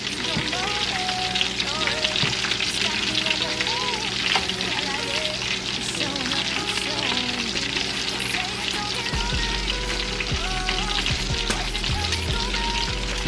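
Meat frying in oil in a pot for jollof rice, a steady dense sizzle running throughout with a person talking over it and occasional low thumps near the end.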